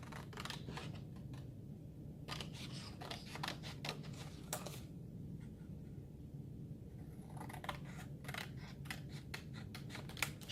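Scissors snipping out paper shapes for a Minecraft creeper centerpiece, a rapid string of short crisp cuts in irregular bursts with brief pauses, close and fairly quiet over a steady background hum.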